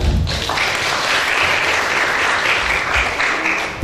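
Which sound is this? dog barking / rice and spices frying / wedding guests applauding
wedding guests applauding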